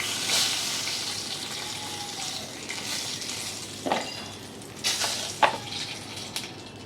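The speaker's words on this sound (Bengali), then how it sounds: "3 পিস মাছ ভাজছি, আর এখানে রয়েছে মাথা।" Pieces of fish and a fish head fry in hot oil in a pan, a steady close sizzle broken by a few scraping stirs and clinks of a utensil.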